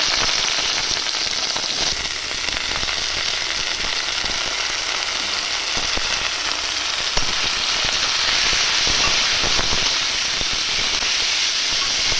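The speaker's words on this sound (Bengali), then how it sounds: "একটা শুকনো লঙ্কা ভেজে নেবো" A dried red chili frying in hot oil in a home kitchen, giving a steady, close, loud sizzle and hiss with small crackling pops throughout, no voices.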